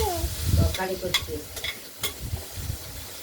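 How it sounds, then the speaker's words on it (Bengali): Food fries in a pan for a prawn and bottle gourd curry, giving a close sizzle with several metallic spoon clinks. A voice is briefly heard at the start. "আমি রান্না করছি, ভাজা করছি, তরকারি করছি"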